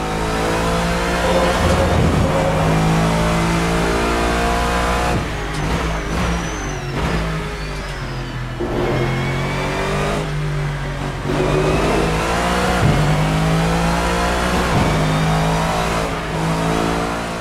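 GT-M race car engine in Assetto Corsa at Silverstone, a steady loud buzzing drone that rises and dips through gear changes and throttle lifts, running continuously throughout.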